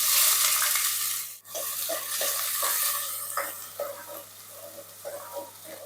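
Onions tipped into a little hot oil sizzle and crackle close up, with stirring scrapes and bursts of frying after a brief drop in sound.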